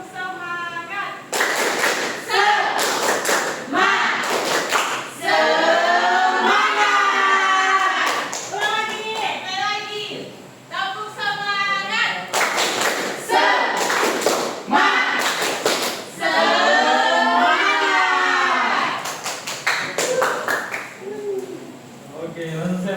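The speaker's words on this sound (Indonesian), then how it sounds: "Tepuk semangat." A classroom of students performs a rhythmic tepuk semangat spirit clap, with bursts of clapping in set patterns mixed with loud group chanting and voices throughout.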